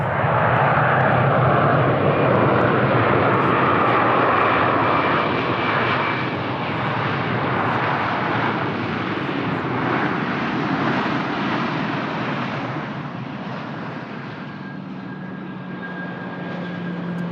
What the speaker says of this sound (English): It's the next aircraft to land.